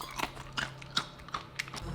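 Several sharp crunchy bites and chews of hot baked oat nachos, close and brief, spaced irregularly over a couple of seconds against a low hum.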